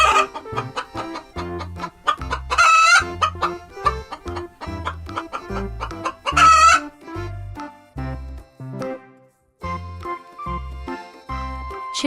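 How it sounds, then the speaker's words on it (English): A cartoon chicken clucks in quick repeated bursts, with a couple of louder crowing-like calls, all set against light children's music. "Chicken say cluck, cluck."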